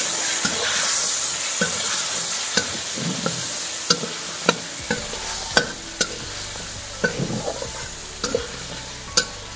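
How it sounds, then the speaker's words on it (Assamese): Potatoes sizzle steadily as they fry in a pan, with a spoon stirring them and scraping and clinking against the metal in irregular bursts, close and fairly loud. "আলু দিয়া এনেকৈ অকণমান লৰোৱাৰ পাছতে মাংসখিনি দিয়ে দিম"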